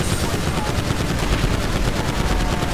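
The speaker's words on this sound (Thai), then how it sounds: "อันต่อไปเป็นอ๋อเป็นกระสุนยิงปืนเลยครับ" Rapid, continuous bursts of gunfire in GTA V from an Iron Man suit firing bullets, loud and dense, with no pause across the whole stretch.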